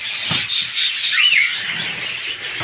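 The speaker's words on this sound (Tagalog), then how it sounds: "Puro female na budgies na Euroline." Female Euroline budgies in an aviary chirping and twittering continuously, fairly close, with a brief rising whistle standing out amid the busy background of calls.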